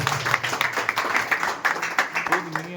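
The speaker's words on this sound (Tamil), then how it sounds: "ஒரு மிகப்பெரிய கைத்தட்டலை கொடுக்கலாம் ப்ளீஸ்" A crowd at an elderly care home claps in a steady patter while a person speaks over it, the applause close and moderately loud throughout.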